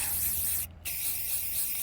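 Aerosol spray paint can hissing steadily and close while coating a vintage Ames Maid metal kitchen cart, with one brief pause in the spray midway.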